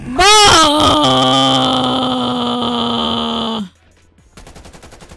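Rapid gunfire in the Call of Duty: Cold War video game, a loud burst of shots opening into a sustained ringing tone that holds for about three seconds, then cuts off abruptly, leaving a faint background.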